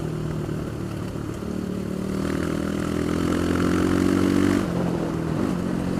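Asiawing Crossfire XZ250RR motorcycle riding on a road in Nepal: a continuous mid-pitched engine drone with wind rush, rising slightly in revs midway and steady throughout, no voices.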